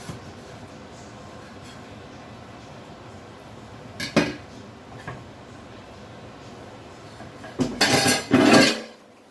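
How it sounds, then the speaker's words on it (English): Eggplant and tofu go into a cooking pot for a curry, with a couple of clinks and then a louder rattling clatter of pieces dropping against the metal near the end, close over quiet kitchen background and no speech. "And now we're going to add in the eggplant and the tofu."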